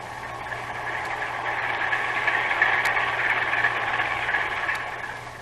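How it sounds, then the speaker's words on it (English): A ship's heavy engines and two propellers come through a submarine hydrophone as a low, steady underwater drone with a faint rhythmic churn, swelling slightly mid-clip and fading a little at the end. "Heavy engines and 2 propellers."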